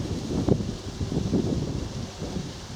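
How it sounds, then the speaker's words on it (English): Wind blowing on a countryside walk in South Cambridgeshire, a low continuous rumble with soft gusting and buffeting against the microphone, steady throughout with no talking. "As you can possibly hear, the wind is picking up."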